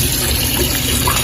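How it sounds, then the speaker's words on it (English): Tap water running steadily at close range for handwashing in a kitchen while cooking, a loud continuous rushing stream with no talking. "Always make sure to wash your hands"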